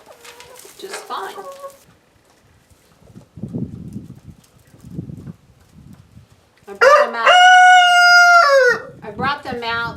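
Backyard homestead chickens cluck in scattered soft bursts, then a rooster crows loud and close with a long drawn-out call, followed by more clucking.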